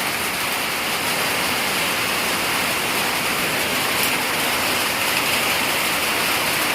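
A severe storm with strong winds and rain, a steady, loud, unbroken roar of rain and wind noise that fills the whole stretch without any pause or spoken voice.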